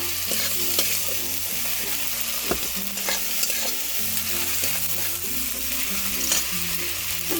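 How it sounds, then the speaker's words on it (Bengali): Turmeric, coriander powder and other spices for a Bengali jhinge chingri jhol are stirred in a sizzling pan, the spatula scraping and knocking in an irregular rhythm over steady frying noise. "এই সব উপকরণগুলো খুব ভালোভাবে মিশিয়ে নিচ্ছি আবারও।"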